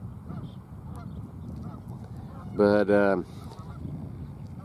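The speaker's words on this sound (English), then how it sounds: "these geese are nesting up there in those rocks." Geese nesting up in rocks give a loud double honk in the middle, harsh and nasal, over a steady outdoor background rumble; a voice speaks briefly.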